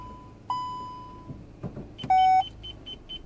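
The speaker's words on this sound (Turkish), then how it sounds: "Sesli park sensör uyguladığımız sensör" A parking sensor fitted to the rear bumper of a Kia Rio gives a long steady tone, then a short tone, followed by a quick series of rapid beeps, close and clear over a faint idling car.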